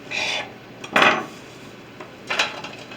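A serrated knife saws through bread for homemade spiced turkey stuffing, giving three separate rasping strokes spaced about a second apart, close and moderately loud with quiet gaps between.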